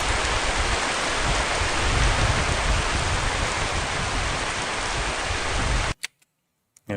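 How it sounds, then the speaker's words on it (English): A storm loop ambience in a Godot 3D island game: steady, dense rain hiss with a low rumble, continuous and loud for about six seconds before it cuts off abruptly into near silence with a few faint clicks. "Ambience, we've got our storm loop."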